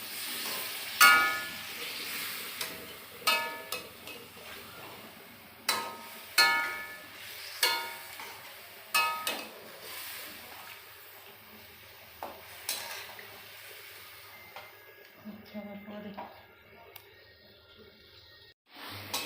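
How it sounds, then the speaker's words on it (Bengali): Potatoes frying in a pan in a home kitchen, heard as a soft sizzle broken by repeated clinks and scrapes of a spatula stirring against the pan at an uneven pace. "এই আলু ফ্রাই করে রাখছি"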